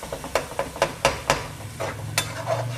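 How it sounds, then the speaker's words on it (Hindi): Masala for chana pulao being roasted and stirred in a pan, a soft sizzle punctuated by about nine sharp spoon scrapes and knocks at an uneven pace, close by and without speech. "अब हम इसको अच्छे से भूनते रहेंगे।"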